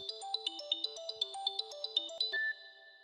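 A mobile phone ringtone for an incoming call plays as a bright, rhythmic electronic melody of stepped tones, loud and close, then breaks off into one steady held beep.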